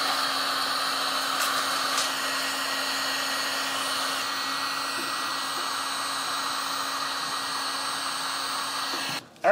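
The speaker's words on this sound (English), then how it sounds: "So I'm just getting some chunks in here with a heat gun and melting it." A heat gun blows a steady, loud whir while melting chunks of pitch, holding an even tone throughout before a brief clatter right at the end.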